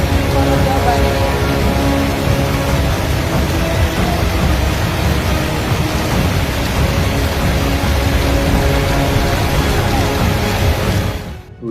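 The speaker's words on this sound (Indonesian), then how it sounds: "Hujan dengan intensitas sedang hingga lebat mengguyur kota Samarinda pada Kamis 18 Juni 2026 sore." Moderate to heavy afternoon rain pours down over the city of Samarinda, a loud, dense, unbroken wash of noise that holds steady and then cuts off abruptly at the end.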